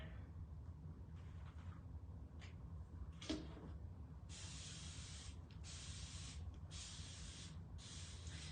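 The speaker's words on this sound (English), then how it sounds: "we're going to spritz this surface" A spray bottle spritzes a surface with about four quick hissing bursts in a row, close but quiet, after a few seconds of near silence.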